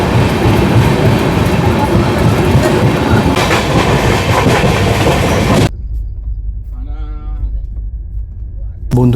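An express train on the Sealdah–Krishnanagar line near Berhampore runs loud and close with a steady rattling clickety-clack, then cuts to a quieter stretch where a person speaks.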